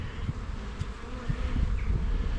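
Honey bees buzzing at an open hive during an inspection on a cool day, a soft, steady hum with faint passing drones and some light handling noise, no one talking.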